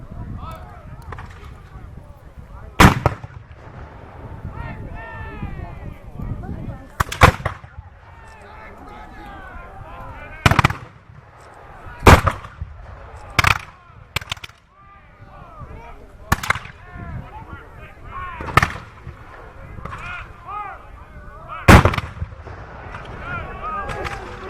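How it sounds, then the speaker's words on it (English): Cannon and artillery fire at a reenactment of the Battle of Fort George, heard as sharp, loud booms spaced a few seconds apart across the span, with an announcer's voice talking between and under the blasts. "And artillery is active once again."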